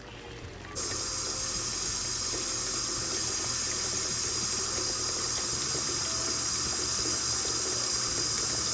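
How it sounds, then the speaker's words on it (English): Hot pickling liquid for radishes is poured into mason jars, making a loud, close, steady rushing stream. It starts abruptly after a moment of quiet and runs unbroken to the end, with no talking. "Let it cool down just a little bit and pour it into these jars"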